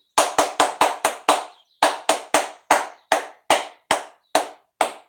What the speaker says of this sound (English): 25 claps.